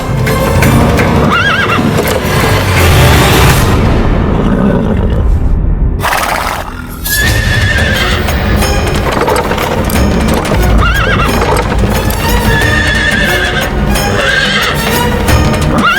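A chariot horse neighs loudly over repeated clip-clopping hooves in a mythological drama battle scene, with dense music and effects throughout and a brief dip near the middle.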